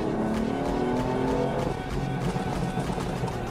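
BMW M3 F80 tuned to 580 hp pulling hard through the gears from second, its engine droning loud and close with rising harmonics, tire noise and a brief squeal mixed in under faint cabin sound.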